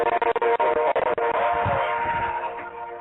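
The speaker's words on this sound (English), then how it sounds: "Damn, that train's loud, Kate." A train passes close by and loud, with a strong, steady rumble and the clatter of rail cars, plus a horn-like tone; the noise holds for the whole stretch and fades only slightly near the end.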